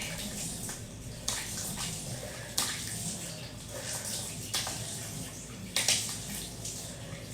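Running water rinsing a gentle green tea exfoliating face scrub off the skin, a steady close splashing wash with brief louder surges, no talk.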